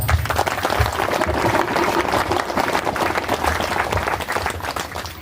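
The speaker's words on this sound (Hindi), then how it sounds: "बजाइए ताली जोरदार।" A crowd under the pandal at a Bhagwat katha in Sonpur Khurd claps loudly and continuously, a thick, even roar of hands with rhythmic thumps beneath it, tapering slightly at the end.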